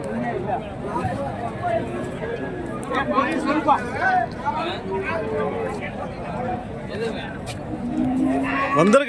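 Cattle and calves at the Kundarapalli livestock market in Krishnagiri district moo and low repeatedly, near and far, over a steady crowd murmur with people talking throughout.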